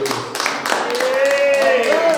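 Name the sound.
audience applause after performance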